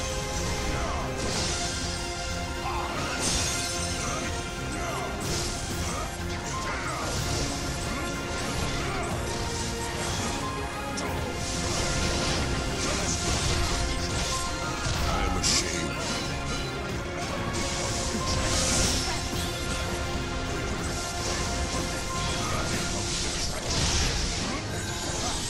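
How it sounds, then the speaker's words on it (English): Koopa smashes a core in a video game amid a dense, continuous wall of crashing and thudding impacts with swooshing effects and mechanical clatter, loud and unbroken throughout. "Go crush that core, Koopa!"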